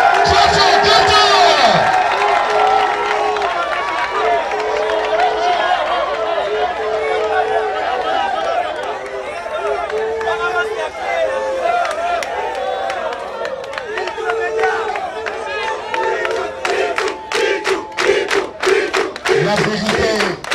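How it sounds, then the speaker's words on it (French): A loud outdoor crowd at a political rally cheers, whoops and shouts continuously, with scattered claps building toward the end and a voice calling out over the noise. "Applaudissez très fort."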